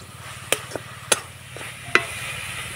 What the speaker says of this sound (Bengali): তো নাড়াচাড়া করে আমি পুরটা তৈরি করে নিয়েছি